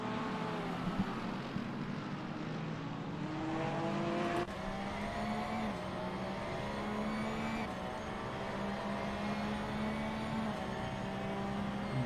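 A Porsche race car in a sim racing series at the Nürburgring GP circuit drones steadily with a continuous engine note, rising in pitch through the gears with a sharp shift partway through, no talk over it.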